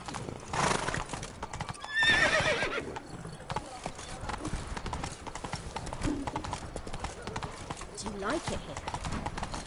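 Roach, a horse ridden in The Witcher 3 video game, clip-clops steadily throughout, with a loud whinny near the start. Someone speaks briefly over the hoofbeats and game sounds.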